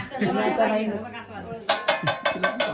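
At a Marathi wedding, a metal plate is struck like a drum with a spoon in a quick series of bright, ringing clanks, with people talking nearby just before.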